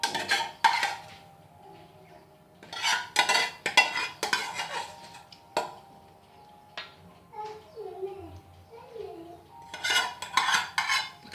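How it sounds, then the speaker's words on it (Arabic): Tomato sauce being spread over dough with a utensil in a home kitchen, with repeated scraping and clinking bursts against the pan between quieter pauses. "دابا ناخذ لاصوص طوماط غنحطها وغنحاول انني نوزعها بشكل متساوي."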